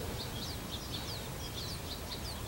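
Finch singing: a faint string of quick, high chirps and twittering notes repeating over a steady background hiss.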